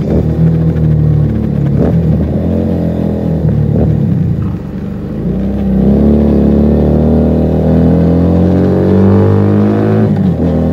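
A Keeway SCR 250V motorcycle with a Mavionic aftermarket exhaust revs repeatedly, its deep rumbling note rising and falling, briefly dipping before climbing in a long rev.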